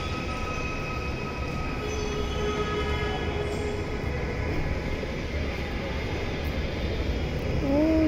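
Metro train running near Shahbag, heard from a hospital cabin block above: a steady, loud rumble of rolling rail cars with faint wheel squeal and a rising whine near the end, filling the whole stretch without speech.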